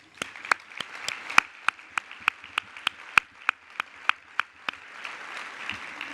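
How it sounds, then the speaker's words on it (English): Sparse, evenly spaced claps from a small conference audience thanking sponsors, with sharp individual hand strikes, fairly close, about twenty in a steady rhythm that thins out toward the end. "Let's give a final round of applause to all of our conference sponsors."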